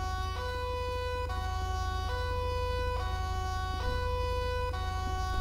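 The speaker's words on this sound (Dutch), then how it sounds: "Hoor je, die sirene klinkt helemaal" Police car siren in the GTA 5 LSPDFR mod, a steady wailing tone that switches pitch at regular intervals over a constant low engine drone, loud and continuous with no talk.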